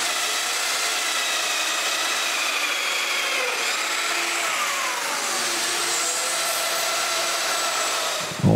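A domino joiner cuts mortises into cedar patio table legs with a loud, steady whining hum. The tone wavers slightly as the cut progresses, then cuts off sharply at the end.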